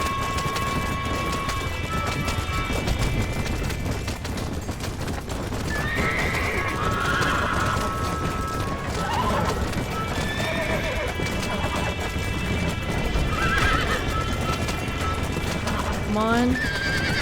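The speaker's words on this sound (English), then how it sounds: "Come on, little horsey." Horse from the video game Red Dead Redemption neighing and whinnying repeatedly with steady clip-clop of galloping hooves, over a constant bed of game ambience; someone speaks briefly.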